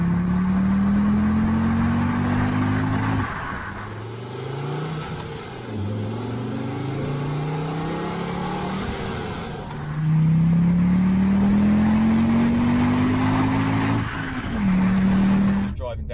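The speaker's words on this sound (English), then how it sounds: "It sounds like an Audi Quattro." A car with a full stainless steel exhaust revs hard, its engine note rising and falling in long sweeping pulls, loud and close, with speech over parts of it.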